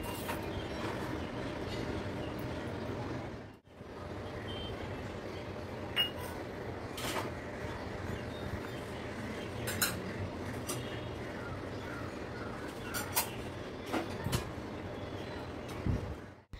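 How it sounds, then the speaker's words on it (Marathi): A knife chops dark brown organic jaggery on a board in a home kitchen, making irregular sharp taps scattered over a steady background hum, fairly close and moderately loud. "एक मोठी वाटी भरेल एवढा गूळ चिरून घेऊया."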